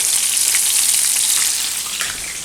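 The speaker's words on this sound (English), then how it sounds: "Let them sizzle." Steady, dense sizzling of shrimp frying in a hot pan, a continuous crackling hiss with no talking.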